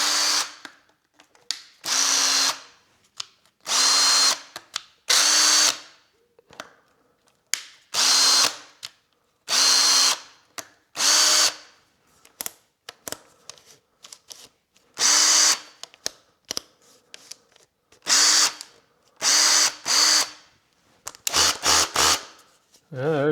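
A Makita BHP453 cordless hammer drill under repair runs in repeated short bursts of loud whirring and hammering, separated by brief pauses, close by.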